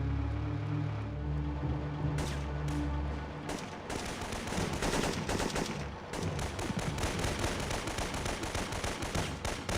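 M16 rifle in the PS1 video game Syphon Filter 3, sustained rapid gunfire in dense bursts after a low rumbling start, loud and close, with no voices.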